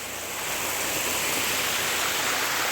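A forest stream in the Konkan countryside rushes steadily, a close, loud and unbroken wash of flowing water with no voices.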